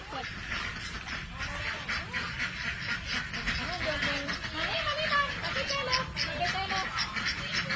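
Ducks quack repeatedly as children feed them in a busy outdoor scene, with people and children chattering continuously underneath the calls.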